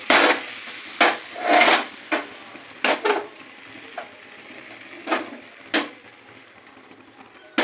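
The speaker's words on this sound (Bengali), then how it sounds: "দিয়ে আমি সাঁড়াশির সাহায্যে এটাকে ঘুরিয়ে নেব।" A white, lacy rice-flour crepe (sarucha kli) is turned in an iron wok (kadai) with tongs, giving a series of short scraping, rasping scuffs and taps at irregular intervals, fairly close, with no talk.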